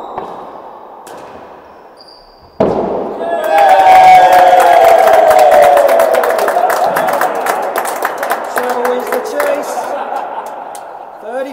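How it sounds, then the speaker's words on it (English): Crowd at a real tennis semi-final match bursting into loud cheering and clapping after a point, rising suddenly and sustained, with scattered voices and whistles mixed in. "The celebration of the crowd there."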